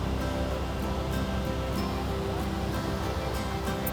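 Ban Gioc waterfall on the Vietnam–China border roars in a steady, dense wash of falling water, loud and continuous throughout with no pauses.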